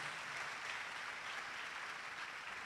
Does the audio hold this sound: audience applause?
yes